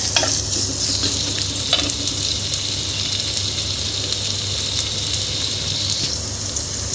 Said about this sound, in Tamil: பொடியாக கட் பண்ணி எடுக்கிற வெங்காயம், இதை நல்லா ஃப்ரை பண்ணிக்கலாம்